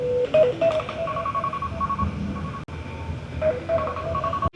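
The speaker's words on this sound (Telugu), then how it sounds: "ఆ ఫోన్ లో అలారం ఇప్పుడు మోగుతుంది." A mobile phone alarm rings on a moving train, a repeating melodic tone pattern over the rumble of the carriage, moderately loud and close, with a brief break midway.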